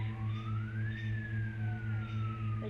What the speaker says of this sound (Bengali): এটা পুলিশের গাড়ি